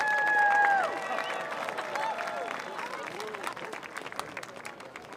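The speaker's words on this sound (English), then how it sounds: "Let's give them one big round of applause." Round of applause for the senior band members at a La Grande versus Pendleton high school football game, a crowd clapping and cheering in a broad steady wash from the stands, mixed with announcer tones and babble, loudest at the start then slowly easing.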